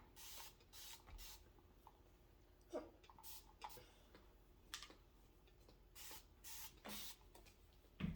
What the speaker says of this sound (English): I'm just going to spray some aloe vera juice on your hair